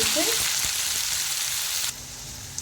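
Chopped onions and half a teaspoon of cumin crackle in hot oil while kachori filling is prepared, a loud continuous sizzle that drops abruptly to a quieter fry near the end, with no talking.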